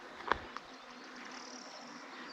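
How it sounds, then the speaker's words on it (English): Honey bees buzz around hives outdoors, a faint, wavering hum hanging in the background with a couple of brief nearer clicks. "There are so many bees out here, you can hear them buzzing."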